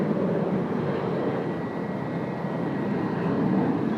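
An Air Shuttle airliner roars steadily on its takeoff roll from runway 30, a broad, loud engine rumble that holds even without any voices.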